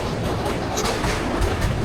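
Passenger train crossing the Bhairab bridge on a long journey to Cox's Bazar, a steady close rumble of wheels on rails with faint rhythmic clatter throughout, no voices.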